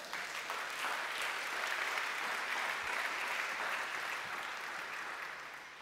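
Congregation applauding at a Sunday church service, a sustained dense clapping from a crowd that holds steady for several seconds and slowly fades slightly, heard from within the room.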